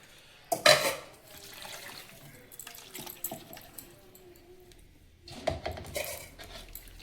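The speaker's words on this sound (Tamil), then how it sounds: "வேணால் நம்ம கொஞ்சம் தண்ணி ஊற்றிக்கலாம். சுடு தண்ணி தான் ஊற்றணும்" Hot water is poured into a thick sessile joyweed chutney, giving short bursts of splashing and pouring with clinks of a metal vessel, near and fairly quiet, separated by a stretch of soft kitchen clatter.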